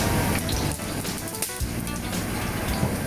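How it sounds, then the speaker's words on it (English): Olive oil is poured into a cooking pot to sauté mirepoix for a bolognese sauce. A steady, close, continuous liquid gush runs throughout without a break. "let's start by putting the olive oil at the pot"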